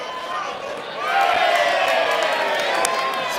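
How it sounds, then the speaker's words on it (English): Baseball crowd cheering during pre-game warm-up at the Baseball Canada Championships, Quebec versus Tecumseh, Ontario; a broad roar of voices swells after a second and holds, with a commentator talking over it. "And the crowd really getting into this warm-up."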